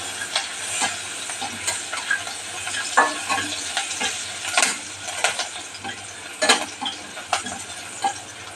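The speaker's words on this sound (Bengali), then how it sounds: "এবারে পেঁয়াজ কুচিটা দিলাম, পেঁয়াজটা বাদামি করে ভেজে নিই" Chopped onions frying in oil in a pan while a fish curry is cooked, a steady close sizzle and hiss broken by scraping stirs every second or so, with no talking.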